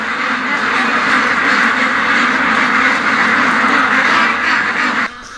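A crowd of ducks quacks loudly and continuously nearby, a dense, overlapping chorus that stops abruptly at the end.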